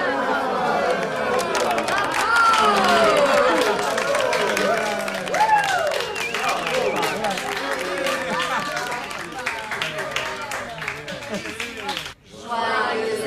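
A family applauds at a birthday gathering, brisk clapping mixed with lively chatter and excited voices, loud and close, fading briefly near the end before resuming.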